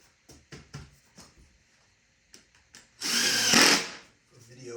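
A power drill briefly whirs as it drives screws into a wooden post stand, with short taps and handling knocks before and after the single loud burst.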